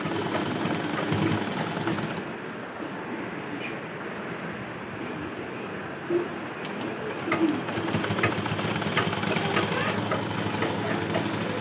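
A sewing machine runs steadily while stitching the gathered panels of a kali ghagra skirt. It makes a continuous, close whirring rattle that holds throughout, with no pauses and only faint background noise.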